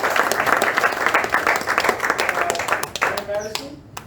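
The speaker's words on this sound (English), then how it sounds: "So give a round of applause" Applause from an audience at a Milwaukee Medicare for All forum. A full round of clapping sounds moderately close, trails off near the end, and some talk is mixed in underneath.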